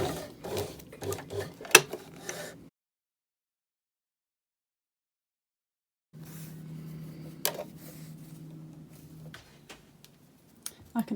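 A sewing machine runs in two bursts of rapid stitching for a back tack on a French seam, the short clattering rattle giving way to silence and then a steadier, quieter hum with a couple of clicks.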